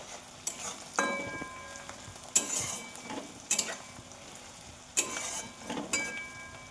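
Onion and garlic frying together in a pan for a mutton curry, with a steady sizzle broken by several spoon-stirring scrapes spaced across the clip, close and alone with no one talking.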